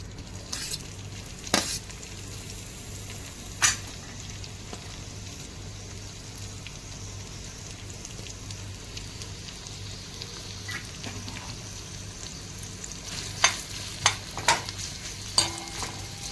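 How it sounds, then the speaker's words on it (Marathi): A large sliced onion fries in about two small spoons of oil, a steady soft sizzle with occasional stirring scrapes and clinks against the pan, a few sharper taps near the end. "हा कांदा आपण लाल होईपर्यंत परतणार आहोत."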